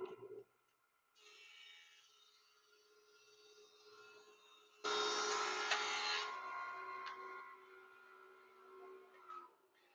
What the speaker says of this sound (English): Turn the planer on. Send the board through.